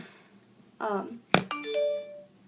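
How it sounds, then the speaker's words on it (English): A mobile phone rings with a short, bright electronic chime melody of clear, ringing tones, preceded by a brief, faint sound that may be a voice. "that's my phone."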